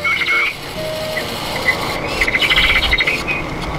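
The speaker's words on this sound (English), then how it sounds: "if you pet a Flutter Friends Hummingbird, it will make a realistic bird sound." An interactive Flutter Friends toy hummingbird gives off realistic bird chirps and trilling whistles when petted, repeating in short bursts over a steady background hiss.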